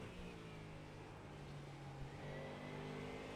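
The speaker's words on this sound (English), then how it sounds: "listen to some of that beautiful V8 music coming out of that engine" A V8 GT3 race car engine at Sebring drones steadily from on board, its low rumble and pitch shifting slightly, fairly faint and continuous.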